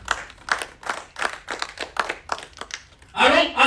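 A church congregation claps in rhythm for Jesus at an Ascension worship service, steady beats about twice a second. A burst of cheering or speech follows at the end.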